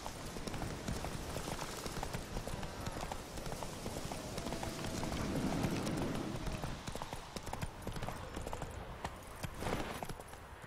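Horse hooves in The Witcher 3 clip-clop in a fast, steady rhythm throughout, close and loud, mixed with ambient game sound and no clear talk.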